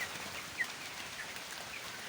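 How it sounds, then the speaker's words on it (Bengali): Light rain patters steadily outside a broiler chicken shed, a soft, even hiss with a faint chirp or two, quiet and distant. "বৃষ্টি হালকা বৃষ্টি আছে বাইরে"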